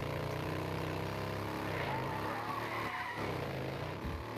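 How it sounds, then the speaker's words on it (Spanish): A motorcycle in the video game Days Gone rides and skids, with a steady engine drone and tire scrubbing sounds throughout, loud and continuous with no talk. "Espero que ahora la moto vaya como un tiro."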